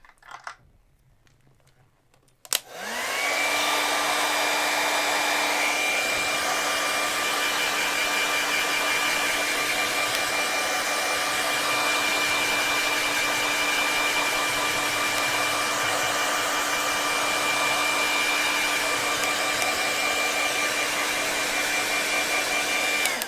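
A hair dryer blasts air to dry acrylic paint on a dolphin painting, switching on after a short quiet moment and then roaring loudly and steadily for the rest of the clip.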